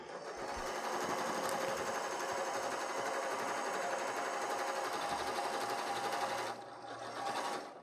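A sewing machine runs continuously, stitching the corners of a fabric bucket bag, a loud, close, even whir that dips briefly near the end before resuming.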